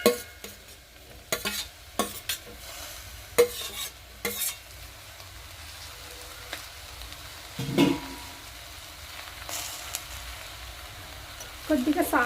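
Chopped tomatoes go into a hot frying pan for a flat bean and tomato curry, with a soft sizzle under repeated sharp scrapes and clinks of a spatula stirring, and a low thud partway through.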